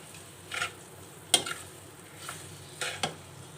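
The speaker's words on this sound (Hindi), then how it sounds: "इसको हम हल्का सा सौते करेंगे, यानी भून लेंगे चिकन को।" Chicken sautéing in oil and ghee in a home kitchen pot gives a soft, steady sizzle punctuated by a few brief scraping stirs and light clinks, quiet and close, with no talking.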